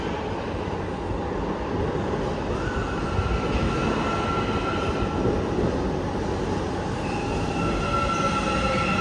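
A metro train rumbles loudly and steadily into Abay station, with a thin wheel squeal rising partway through. Nobody speaks.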